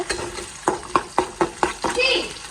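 Chopped onion and garlic, one large onion and a small clove, frying in hot oil in a pan, with a series of evenly spaced stirring scrapes over a soft sizzle and no talking.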